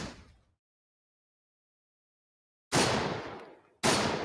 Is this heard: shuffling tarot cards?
no